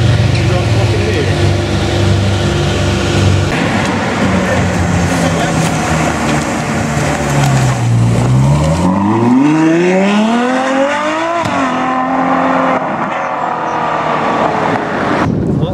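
Supercars outside a supercar event rev and drive past, loud engine drones rising and falling with a pitch sweep as one passes close by, over crowd noise and voices.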